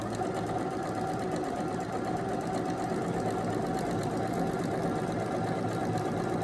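A sewing machine stitches a buttonhole on a child's dress by itself, giving a steady rapid mechanical whir with a fast even needle rhythm, close and constant, with no talking.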